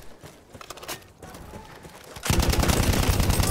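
Hellriegel submachine gun firing in Battlefield 1, scattered game noise giving way to a loud, rapid sustained burst of automatic fire that continues to the end.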